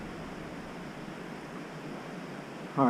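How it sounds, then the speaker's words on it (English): Steady broadband rushing of a waterfall, constant and fairly loud, filling the whole clip alone, with a brief sharp rise at the very end. "Waterfall."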